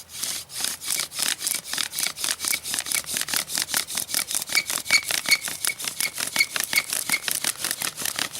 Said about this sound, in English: What you're getting is, like in the machining world, it's called chatter.